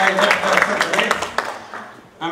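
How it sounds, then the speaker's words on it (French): An audience claps for a doctor being introduced at a talk on psychosocial risks to workers' health. The dense, steady applause runs under a voice and fades toward the end. "On applaudit Dr."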